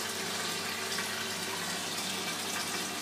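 Water from a submersible pump pours steadily into a pond filter, a continuous broadband splashing rush that holds even and close throughout with no pauses.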